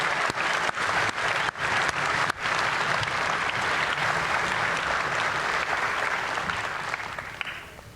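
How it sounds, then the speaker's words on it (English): Loud, dense applause fills a US Army infantry graduation ceremony as the crowd honors the drill sergeants, holding steady for several seconds before tapering slightly at the end. "Please join me in a round of applause for our awesome drill sergeants."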